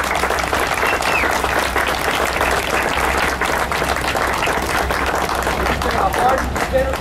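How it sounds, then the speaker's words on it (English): A crowd applauds Civil War reenactor soldiers at an outdoor event at the Pine Creek railroad, continuous dense clapping with a low steady rumble underneath and a background babble of voices. "How about a round of applause for my boys?"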